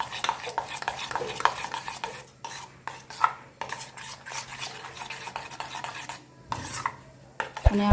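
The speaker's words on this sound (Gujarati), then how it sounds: "મસ્ત હલાવી લઈશું." Idli batter being stirred in a pot, a steady run of close, loud scraping and clinking strokes of a spoon against the vessel, uneven in rhythm with brief pauses, and no voices.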